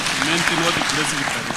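A church congregation at a PCEA thanksgiving service in Nairobi claps together, a dense patter of hands heard beneath a voice speaking over it.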